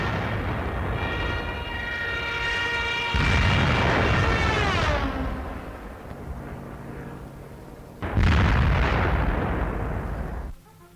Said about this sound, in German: Bombe für Bombe trifft ihr Ziel.